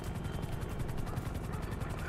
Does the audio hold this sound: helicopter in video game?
yes